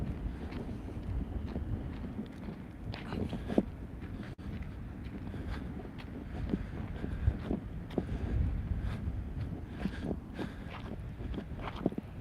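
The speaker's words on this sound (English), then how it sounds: "It's a little windy here, so I hope you can still hear me." Outdoor wind buffets the microphone in a constant low rumble with gusty swells and a few faint thumps, fairly quiet and continuous with no speech.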